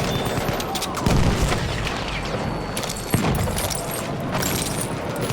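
Gunfire in a war video game, rapid bursts and a couple of heavier booms under constant battle noise, with shouted voices mixed in.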